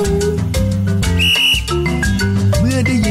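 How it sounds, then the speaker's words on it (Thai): A whistle is blown to start a children's race in a storytelling scene, one shrill blast set against cheerful background music. "เมื่อได้ยินเสียงนกหวีดเด็กๆ ก็มุ่งหน้าวิ่งไปตามจุดที่ครูนกแก้ววางเมล็ดถั่วไว้"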